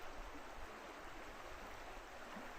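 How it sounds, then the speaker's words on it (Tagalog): A river in Tanay, Rizal runs steadily during the rainy season, giving a constant, faint rushing wash of flowing water with no voices over it. "so ito yung ilog"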